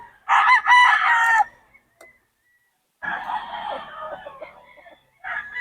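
A rooster at a gamefowl farm crows loudly and close by, followed by a second longer crow and the start of a third, with quiet gaps between.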